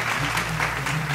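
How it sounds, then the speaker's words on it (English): Applause from a small audience, a steady patter of claps filling the short moment with no voices over it. "thanks for the applaud"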